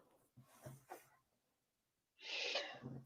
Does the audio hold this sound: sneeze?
yes